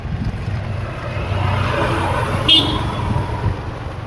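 A Maxtron Shaktiman electric loader runs with a steady low rumble and a whirring drone, with one brief high-pitched squeak partway through.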